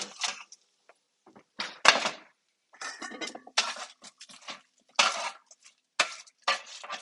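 Carrots tossed in a pan make a run of sharp, close clattering bursts of metal and food, spaced with short pauses, over a quiet background.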